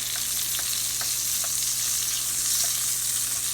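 A steak sizzles steadily and loudly in a very hot pan while being basted, its bright hissing crackle constant, with a few faint clinks of a spoon against the pan.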